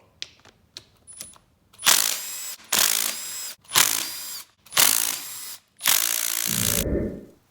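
A ratchet clicks in five quick bursts close up while removing the engine case on an Arctic Cat 400 ATV, preceded by a few light metallic taps.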